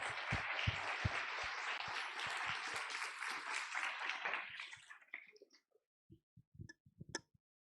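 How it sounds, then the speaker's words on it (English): Conference audience at a hackathon opening session applauding with dense, sustained clapping that fades out after about five seconds, leaving a few scattered claps and small noises. "let's give once again a round of applause for the sponsors"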